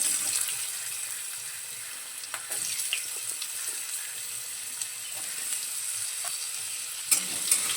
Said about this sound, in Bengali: আলুটা তেলের মধ্যে একটু নেড়ে চেড়ে ভেজে নেব